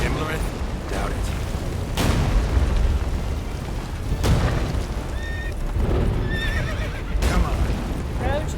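Geralt's horse Roach gallops and neighs during a battle in The Witcher 3, whinnies and hoofbeats mixed into loud rumbling booms and explosions, with a voice talking over the chaos.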